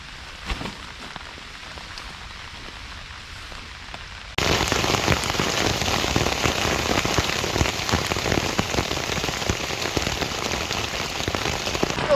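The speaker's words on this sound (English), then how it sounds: "We've got little hailstones." Rain and small hailstones pattering on a poncho shelter while camping during Storm Ciarán; a light patter first, then a sudden switch to a loud, dense, steady drumming close overhead.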